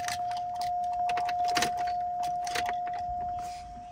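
Car keys jangle in quick, clustered metallic rattles for several seconds, close and fairly steady, with a faint constant tone running underneath and no talk.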